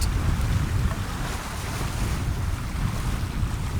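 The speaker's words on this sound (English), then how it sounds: "We're proper sailing now, which is what it's all about. Doing over 6 knots." A 20-foot sailing boat under way at over 6 knots on the North Sea, with a steady wash of water and wind rushing against the microphone, loud and continuous throughout.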